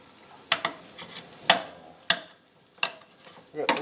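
Meat and onions seasoned with chipotle black pepper and salt are stirred in a pot. A handful of separate scraping strokes sound close by, with a faint sizzle between them.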